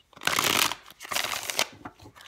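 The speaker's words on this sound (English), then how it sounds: "Oh, these are nice shuffles." Tarot cards being shuffled by hand in two quick riffling bursts, close and crisp, with a softer flutter trailing at the end.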